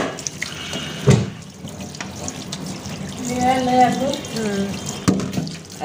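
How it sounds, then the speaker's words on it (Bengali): Tap water runs over potatoes being rinsed in a kitchen sink for chotpoti, a steady splashing wash with a few louder knocks near the start and end, and brief voice-like tones in the middle. "আলুটা কিছু ধুয়ে নিচ্ছি আমি"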